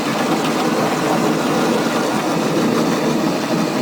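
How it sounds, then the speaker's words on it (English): A train on a 15-inch gauge backyard railway runs steadily with a continuous dense rumbling roar at close range, loud and unbroken throughout. "Actually, this is a 15-inch gauge, and it's proper railway property."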